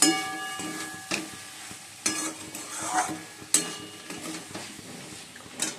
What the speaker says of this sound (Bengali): আলুটা ভেজে মশলাও দিয়ে দিয়েছি দিয়ে ভালো করে কষে নিচ্ছি